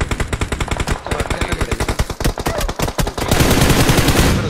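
Sustained automatic gunfire in a battle royale video game, loud and close, with rapid evenly spaced shots running the whole time and a denser barrage toward the end.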